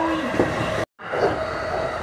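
Steady rumble and hiss of a Keihin-Tohoku Line local commuter train running on rails between Yurakucho and Kawasaki, continuous and close, with a brief dropout near the middle.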